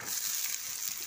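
Ginger, garlic, green chili and onion frying in a pan give a dense, even hiss of hot oil, close and steady for about a second, with no talking.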